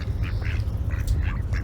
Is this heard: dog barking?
no